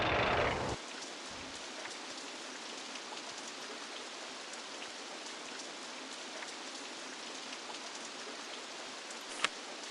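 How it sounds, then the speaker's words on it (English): Steady rain in the video game OpenRCT2 pours continuously, a dense hiss of drops with occasional louder patters, heard alone without voices. "Some rain."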